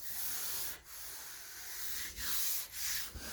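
Primer being block sanded on a 1968 Pontiac Firebird body, a steady, close, hissing rub that runs in long strokes broken by brief pauses, with no talking.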